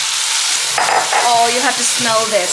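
Fresh tomatoes drop into a pan of sizzling oil with red pepper and turmeric, setting off a sudden loud hiss and crackle that keeps bubbling as they are stirred, with a brief spoken remark over it.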